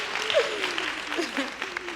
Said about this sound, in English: That's the clap time.